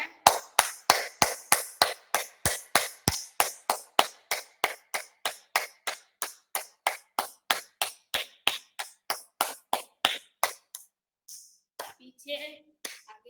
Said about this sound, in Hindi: चलिए जोरदार एक बार तालियां हो जाए